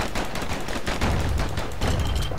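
Dual slinger pistols fire in rapid succession in the action game Bastion, with continuous loud overlapping shots and punchy bursts filling the whole moment and no voices.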